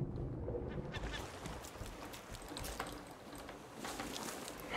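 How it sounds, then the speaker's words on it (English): A bird calls in the survival video game Raft, giving duck-like honking cries over a loud, busy ambient game background, with no talk. "I hear that fucking bird."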